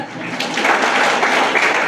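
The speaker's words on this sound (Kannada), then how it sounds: "ನೀವು ಚಪ್ಪಾಳೆ ಹೊಡಿಬೇಕಿತ್ತು, ಹೊಡಿಲಿಲ್ಲ." An audience at a school talk claps together, a dense, fairly loud wash of hand claps that holds steady for a couple of seconds.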